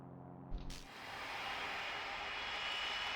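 Jet airliner taxiing across a runway at an airport, a loud, steady engine roar with a broad hiss that swells after a brief thump and then holds constant, heard from nearby with no talking.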